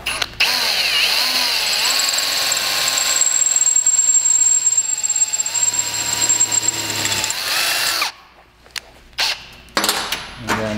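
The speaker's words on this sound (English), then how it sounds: "drill a pilot hole." Power drill boring a pilot hole in a stainless steel exhaust pipe, a loud continuous high whine with a steady tone for about eight seconds, then stopping and giving way to short bursts and quieter handling noise.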